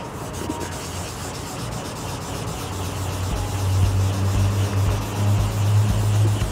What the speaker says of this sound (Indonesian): Ngamplas itu harus circle ya, harus bulat.